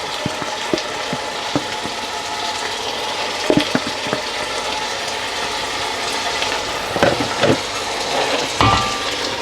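Steady loud sizzling as a yogurt mix for lamb biryani hits a hot pan, with scattered clicks and scrapes of stirring throughout.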